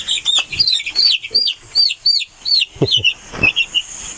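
Chickens cluck and chirp repeatedly in quick succession, close by, with a few soft thuds in the background.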